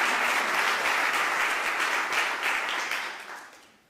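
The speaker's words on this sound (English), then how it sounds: "A round of applause perhaps for Elizabeth." Audience applause at a child protection week award event, a dense steady clapping that fades out over the final second.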